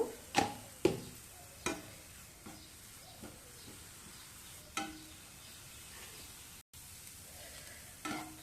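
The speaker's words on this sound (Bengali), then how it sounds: "গাজর দিয়ে খালি একটু জাস্ট এক দু মিনিট নেড়ে নিলাম" Carrots being stirred in a frying pan for a broccoli paratha, with a soft sizzle under scattered spatula scrapes and taps, several sharper knocks near the start and a few more later.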